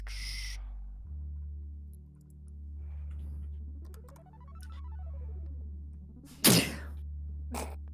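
A single short, sharp sneeze bursts out loudly over a quiet background with a low steady hum and faint tones, followed by a fainter brief sound moments later.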